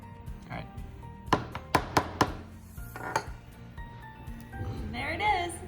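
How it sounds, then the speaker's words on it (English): A hammer drives a nail into a pilot hole on a craft kit: four sharp, close strikes in quick succession, then a fifth after a pause, with a voice briefly audible near the end. "take your hammer and go to town"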